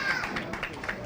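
A crowd at a bowling alley team championship reacts to a strike with a brief burst of cheering and clapping, close and lively, mixed with voices.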